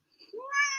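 A pet cat gives a single short meow, close and clear, rising into a bright drawn-out cry in a quiet room.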